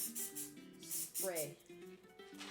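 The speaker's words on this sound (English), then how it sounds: "Spray the seeds a little bit." Cooking spray hisses onto squash seeds in a few short, soft bursts, mixed in with a person talking.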